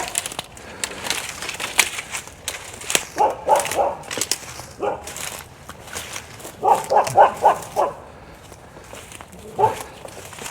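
A dog behind a fence along the Elizabeth River barks in short clustered bursts at middle distance, mixed with footsteps, crunching and people talking.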